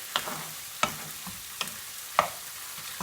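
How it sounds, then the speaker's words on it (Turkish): Chicken and vegetables stirred in a pot over high heat for sauté, a soft steady sizzle broken by four distinct scraping clinks of the spoon at roughly even intervals, with no talking. "Onlar da harlı ateşte karıştırarak pişirmeye devam ediyorum."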